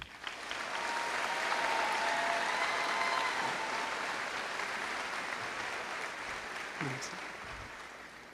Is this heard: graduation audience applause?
yes